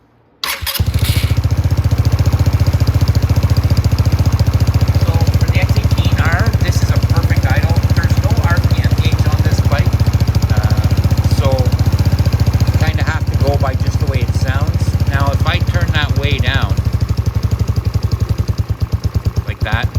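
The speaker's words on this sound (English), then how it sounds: "So let's start the bike." A Venom x18R 200cc automatic motorcycle starts up and settles into a loud, steady close-up idle with a low rumbling throb, with a few revving bursts and faint mechanical rattles over the engine.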